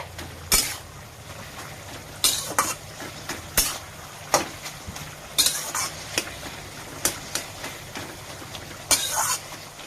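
Leafy greens (shak) fry in a pan with a constant sizzle, while a utensil scrapes and taps against the metal every second or so.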